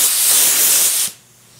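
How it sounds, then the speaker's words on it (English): Spray gun hissing as it lays a coat of sealant onto a car panel, a loud steady burst for about a second that cuts off abruptly into quiet. "I'm gonna go ahead and put a coat of sealant on here just like I did on my bumper and on my fender"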